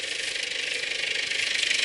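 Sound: Case International 1394 tractor, Perkins four-cylinder turbo engine running

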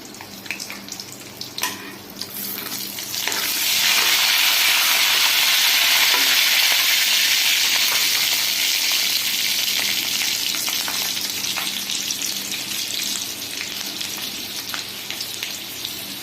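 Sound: green chillies frying in pan for mor kuzhambu

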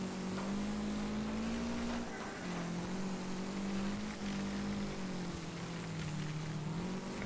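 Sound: race car engine in Wreckfest video game

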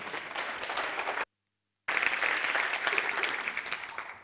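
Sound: audience applause welcoming a speaker

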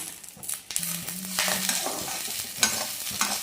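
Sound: food frying and sizzling in a pan

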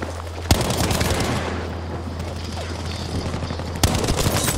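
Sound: gunfire in the video game Battlefield V

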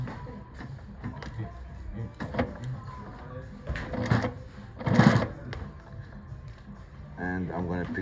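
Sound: Juki LU-1560N industrial sewing machine stitching webbing and denim layers

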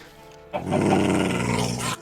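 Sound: wolf growling in the video game Minecraft

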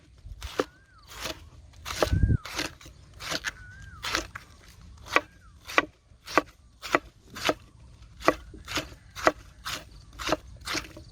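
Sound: knife chopping banana blossom

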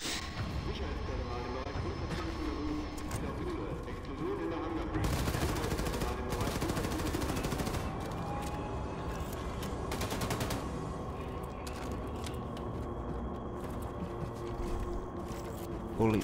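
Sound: gunfire from dual-wielded guns in video game Wolfenstein II

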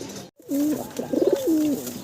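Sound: pigeons cooing at a pigeon farm

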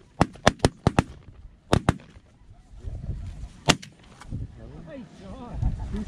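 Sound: shotgun shots at snow geese during a hunt

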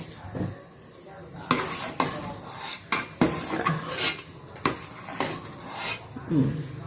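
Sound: spoon scooping ginger out of a pot

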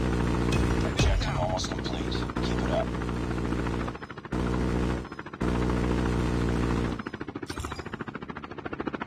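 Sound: chopper gunner helicopter in a video game

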